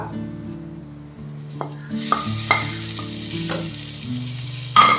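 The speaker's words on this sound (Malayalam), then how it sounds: "ഇതും കൂടെ ചേർത്തിട്ട് നല്ല രീതിയിൽ വഴറ്റണം." Chopped tomato sautéing in a pan of squid masala, giving a steady close sizzle with a few clinks and scrapes of the spoon stirring, and no talking.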